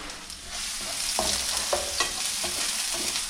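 White onions frying in a skillet for a late-night potato and egg breakfast, a continuous soft sizzle with a few spatula scrapes and clicks, close but fairly quiet, no voices.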